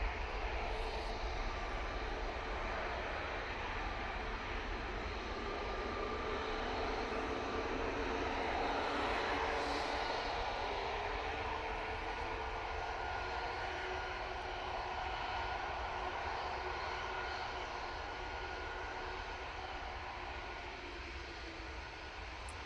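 An airliner departing Manchester Airport for Amsterdam produces a steady, distant jet roar that holds evenly throughout and tails off slightly toward the end.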